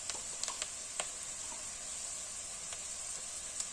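Green chillies fry in a pan of chicken feet, a constant bright sizzle with scattered sharp pops and crackles, close and steady, with no voices.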